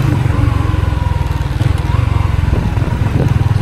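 A motorcycle engine runs loud and close, its pulsing throb rising and falling as the throttle is blipped during rev-matched downshifts.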